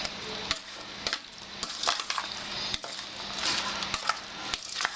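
Chicken pieces for kabab are mixed with spices by hand in a bowl, giving close, wet squelching and stirring with irregular taps and scrapes against the dish.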